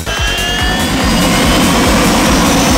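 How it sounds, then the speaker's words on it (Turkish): A loud, steady turbine whine with a throbbing low rumble from a helicopter engine mounted on a motorcycle-like vehicle, running close by. "Üzerinde helikopter motoru bulunduruyor ve doğal olarak helikopter sesi çıkarıyor."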